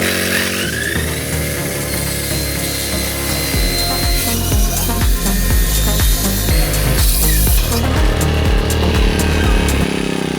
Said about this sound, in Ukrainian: попробуємо диском зрізати піньочок